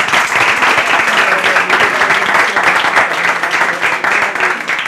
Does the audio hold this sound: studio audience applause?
yes